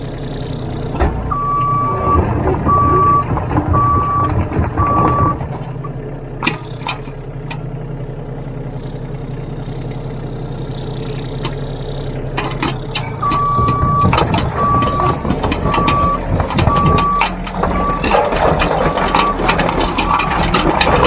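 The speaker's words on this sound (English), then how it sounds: "Just drove the machine down this hill, quite steep, over and pulled it up." A digging machine drives on a steep hillside, its diesel engine rumbling steadily up close while evenly spaced reversing beeps sound in two runs, at the start and again near the end.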